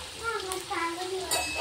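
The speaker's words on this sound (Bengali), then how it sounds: "তুলি আগে আলুগুলো ভাজা হোক।" Potatoes fry in oil in a home kitchen pan, giving a soft, steady sizzle with faint spattering, while a voice talks briefly over it.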